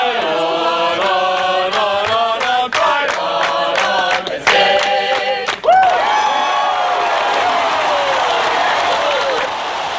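A record stadium crowd of more than 96,000 roars at a Penn State football game, a dense sustained crowd roar with a marching band playing brassy chords over it, loud and continuous.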